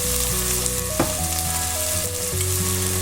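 Chopped tomatoes with a little salt and turmeric sauté in a pan for a soya chunk masala, giving a constant sizzle and stir noise under upbeat background music.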